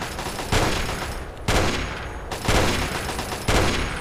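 Heavy gunfire in Fallout 3, a loud rattling barrage that swells in repeated bursts roughly every second, harsh and close with no speech.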